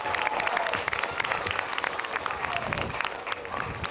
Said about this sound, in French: nous n'oublions pas d'applaudir et de faire un tonnerre d'applaudissements pour Don Louis